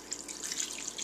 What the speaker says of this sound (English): And then some filtered water.